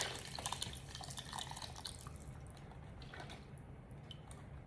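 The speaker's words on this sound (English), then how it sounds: "And now I'm adding my chicken broth." Chicken broth is poured into a soup pot of vegetable broth, giving a soft, steady liquid splash with light dripping, fairly quiet and without talk.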